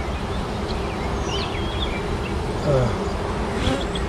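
A swarm of honey bees in a bee yard drones loudly and continuously, the dense buzzing close and unbroken, with a few individual bees zipping past.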